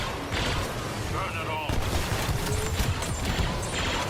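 Dense blaster barrage from a Star Wars Battlefront match playing as Boba Fett, a steady wash of overlapping shots and clatter filling the whole stretch with no pause, loud and busy throughout.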